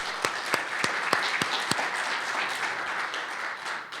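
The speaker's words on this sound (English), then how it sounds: "Can we give another round of applause?" Steady audience applause from a morning press club event, a dense wash of many hands clapping with a few sharper individual claps standing out, sustained and even throughout.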